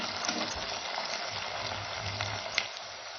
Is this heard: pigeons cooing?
no